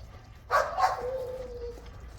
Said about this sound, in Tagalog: Yung isa nakahol